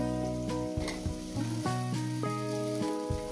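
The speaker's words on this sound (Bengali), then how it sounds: "আলুটাকে আমি ভেজে নেব" Potatoes fry in a pan for aloo posto with pumpkin greens, a close, continuous sizzle broken by a few soft scrapes and knocks as they are moved about, with no speech.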